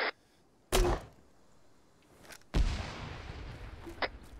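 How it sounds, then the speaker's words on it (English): Grenades explode in the military video game Arma 3, two sharp loud blasts a couple of seconds apart, the second trailing into a longer rumbling decay with smaller impacts after. "chill out with the grenades"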